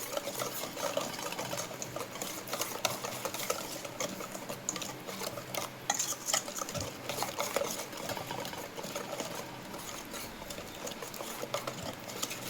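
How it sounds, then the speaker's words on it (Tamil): A whisk beats a tandoori chicken marinade in a bowl, making a rapid, continuous rattling patter that is fairly faint and close, with no talk. "இப்போது இந்த மாதிரி விஸ்க் இருக்குல்ல, இதை வச்சு நம்ம மிக்ஸ் பண்ணிக்கலாம்"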